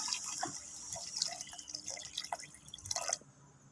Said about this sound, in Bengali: এবারে এতে দিয়ে দিচ্ছি আমি জল।